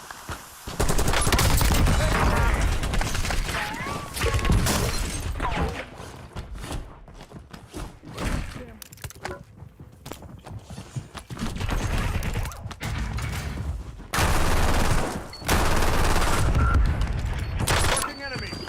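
Call of Duty Warzone gunfire rattles in loud, dense automatic bursts, stopping and restarting throughout, with booms and thuds mixed in and voices talking over parts of it.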